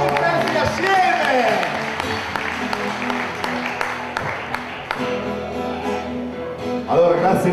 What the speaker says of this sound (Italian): Un applauso a Erminio!